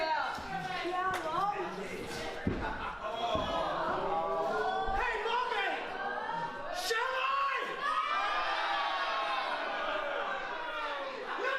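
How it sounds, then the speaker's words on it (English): A wrestling crowd in Margate cheers, whoops and shouts in excited waves, with children's voices mixed in, under energetic commentary. "The crowd here in Margate can't believe it."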